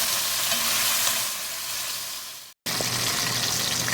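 Beef short ribs browning in a hot pan give off a steady, loud sizzle with crackling fat, broken by a brief silent gap before the frying resumes.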